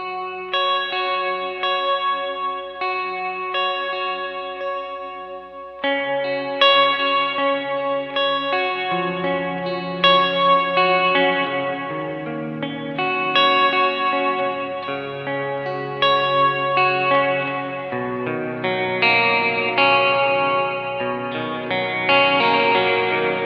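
Sustained guitar chords through a Walrus Audio Slotva reverb pedal ring out drenched in reverb and chorus-like shimmer, with a deep lower octave layered beneath, playing continuously without any talking.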